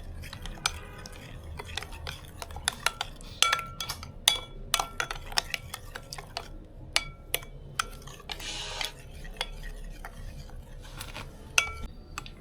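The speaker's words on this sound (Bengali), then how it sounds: "এবার এটা ভালো করে মিশিয়ে নিই।" Yogurt and sugar stirred in a bowl, heard as a run of sharp clinks and taps of a spoon against the dish, irregular and close, with quiet gaps between bursts.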